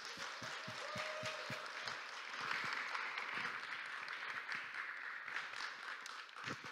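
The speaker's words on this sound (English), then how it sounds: "y'all give a warm welcome and a round of applause for Starla Ellison" A church crowd at a Mother's Day service applauds a speaker being welcomed up, a broad wash of clapping with a few distinct nearer claps at the start and end, sustained and fairly distant.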